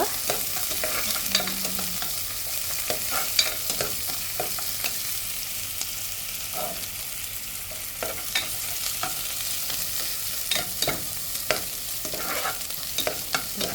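Dry, crackly frying of dried sprats with onions in a pan, with repeated scraping strokes of a spatula stirring, the sizzle soft and steady underneath, no voices.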